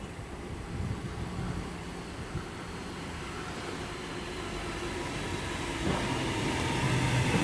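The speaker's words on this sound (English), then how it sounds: "And here we have what will be the last train in the video. The train that I'm going to be taking." A Sydney B-set double-deck electric train on a City Circle service pulls into Turrella station, a steady, moderately loud rumble and whine that builds slightly toward the end, with no talking.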